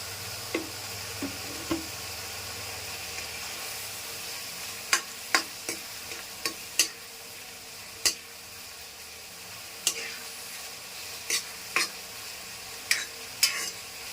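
Ridge gourd cooking in a pan with turmeric added, a soft steady sizzle running underneath while a spoon clinks and scrapes against the pan in scattered sharp taps.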